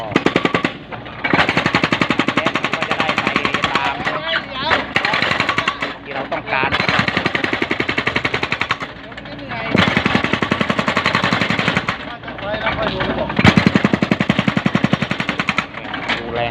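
A hydraulic breaker on a Kubota SK55 excavator hammers concrete during drainage pipe work at a health station, loud rapid pounding in long bursts with short pauses between them.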